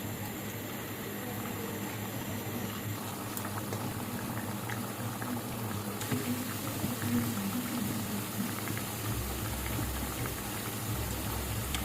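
Pakon pitha, a Bengali milk-soaked rice-flour cake, frying in hot oil, giving a steady dense bubbling sizzle that runs unbroken and fairly loud throughout, with no talking.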